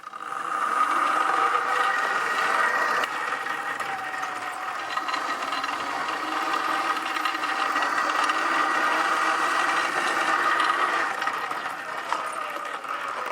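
A DIY electric conversion of a Kawasaki KLR motorcycle ridden and turned around, a steady whining electric motor hum with mechanical whirring and wind, continuous and close throughout, no speech.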